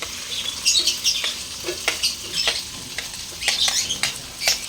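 Garlic frying in a pan for a breakfast with corned beef, a steady crackling sizzle with brighter bursts of spattering and stirring, close and fairly loud with no talk.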